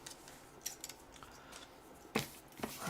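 Scissors cut open product packaging: a few quiet snips and rustles, then a sharper, louder cut near the end, heard close with no talking.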